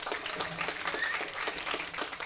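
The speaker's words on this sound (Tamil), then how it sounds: "மகேஷுக்கு ஒரு பெரிய கைத்தட்டல்" An audience at a Tamil film trailer launch applauds an associate named Mahesh, a steady, moderately loud wash of many hands clapping throughout with faint voices underneath.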